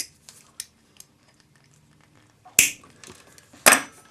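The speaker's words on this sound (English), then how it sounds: "cut that off to that length" Silver wire is snipped to length with cutters in two sharp, loud clicks about a second apart, preceded by faint handling taps up close.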